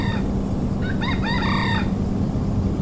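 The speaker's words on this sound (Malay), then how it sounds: "makin kerap didengarnya suara kokok ayam jantan" A rooster crows once in a forest scene of a Malay audio drama, a clear multi-part cock-a-doodle-doo rising out of a constant loud low rumble of background noise.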